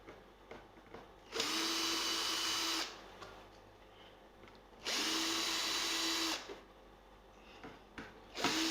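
A power drill backs screws out of the back of a handmade electric guitar body, two loud sustained whirring bursts of about one and a half seconds each, separated by quieter handling clicks and taps close by.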